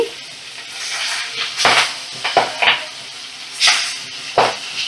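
Magur catfish fry in oil over a medium flame: a low background sizzle punctuated by several loud, sudden bursts of spattering.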